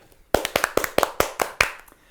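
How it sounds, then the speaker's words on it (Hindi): Roughly eight crisp, distinct hand claps in a quick, slightly uneven rhythm, close and dry, starting after a brief quiet moment and stopping abruptly. "और भाई तालियां।"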